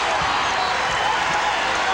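Dense crowd roar and cheering fill a basketball arena at the 1996 NBA Finals between the Chicago Bulls and Seattle SuperSonics, a steady loud wash of voices with faint ball bounces underneath.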